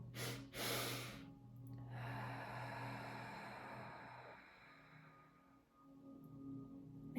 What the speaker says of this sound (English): Notice how you're breathing deeper.